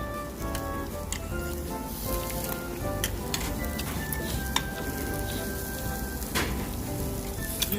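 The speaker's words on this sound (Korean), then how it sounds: "마늘 튀김." Garlic frying beside beef on a charcoal grill at a restaurant, giving a steady dense sizzle and crackle with scattered sharp pops, close and continuous throughout, with no talking.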